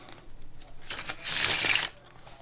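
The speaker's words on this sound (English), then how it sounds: "Now, you can do a bridge with this shuffle as well." Cards riffle together in a quick, crisp table casino shuffle with a bridge, rising into a dense burst of fluttering card flicks before cascading to a stop, close up.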